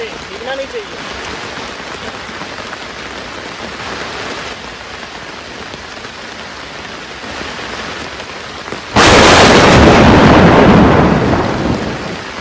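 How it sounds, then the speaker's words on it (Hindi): Heavy rain falling in a forest camping spot in India, a constant roar of drops with distant thunder rumbling, then the downpour suddenly swells much louder and closer near the end. "अभी जो है ना बारिश बड़ा तेज़ हो गया है।"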